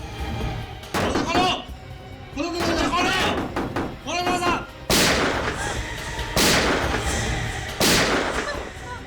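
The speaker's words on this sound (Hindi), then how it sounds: "सर गोली चलने की आवाज है।" Several sharp, heavy gunshots ring out, a few close together early and then three louder, widely spaced blasts, with voices talking in between.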